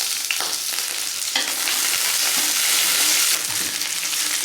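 Scallion, ginger, Sichuan pepper, star anise, cinnamon and bay leaves stir-fry in hot oil with a loud, continuous sizzle and occasional scraping stirs from a spatula, heard close up without talk.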